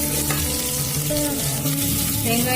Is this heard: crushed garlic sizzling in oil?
yes